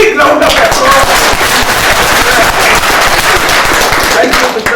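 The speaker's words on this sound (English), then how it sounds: "Let us give a big round of applause" An indoor audience at a professional quantity surveyors' event bursts into loud, dense applause that holds steady throughout, with a crackling, continuous texture of many hands clapping at once.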